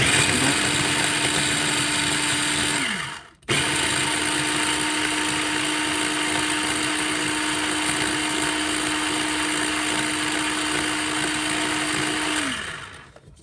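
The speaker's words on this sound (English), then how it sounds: "my tiny little food processor. I'm going to stir up the strawberries" A tiny food processor whirs steadily as it blends strawberries, a loud, even motor drone that briefly stops and restarts before spinning down at the end.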